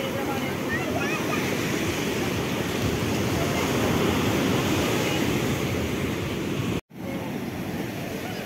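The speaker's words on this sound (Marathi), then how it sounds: "पाण्याचा आवाज एवढा जबरदस्त येतो ना" Ocean surf at Anjuna Beach in Goa at sunset washes in as a loud, continuous roar of breaking waves with wind buffeting the microphone, briefly cut off near the end.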